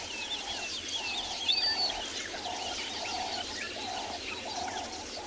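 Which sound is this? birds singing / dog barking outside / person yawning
birds singing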